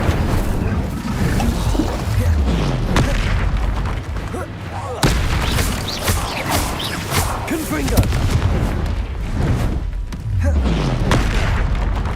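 Incendio fire spell casting in the video game Hogwarts Legacy, heavy booming blasts and thuds repeating every few seconds amid game combat noise, with voices shouting in between.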